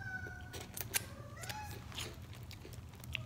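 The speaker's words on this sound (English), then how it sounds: "that's just my cat." A house cat meows a few times softly in the background of a quiet room, the brief cries partly lost under a low steady hum.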